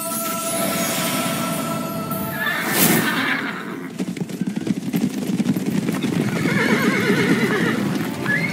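A horse neighs and whinnies in the Dark Romance 8 fantasy video game, with hoofbeats clip-clopping over a steady musical background and a loud whinny rising near the middle.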